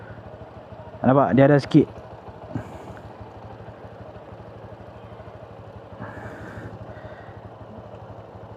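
A Suzuki Gixxer 250 motorcycle with a clutch problem idles with a steady close-range rhythmic putter, and a soft clunk follows as it drops into first gear. Someone speaks briefly near the start.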